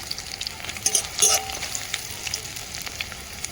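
Ginger dropped into a pan of frying bori and onion produces a steady close sizzle, with a brief louder crackle and stirring scrape about a second in before settling back.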